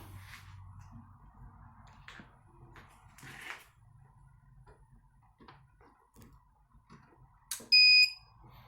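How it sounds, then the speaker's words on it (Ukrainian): A few quiet clicks over a low hum, then a sharp electronic alarm beep rings out loudly near the end. "Чуємо звукову сигналізацію, чітке спрацювання реле"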